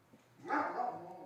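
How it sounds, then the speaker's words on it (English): A German shepherd lets out a single short bark from a distance, rising quickly out of a quiet background and fading over about half a second. "I got a shepherd. They bark a lot."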